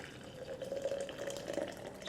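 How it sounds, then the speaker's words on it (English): Hot water poured from a kettle over green tea leaves in a cup, a steady close trickling stream lasting a couple of seconds with no talk. "Add some hot water."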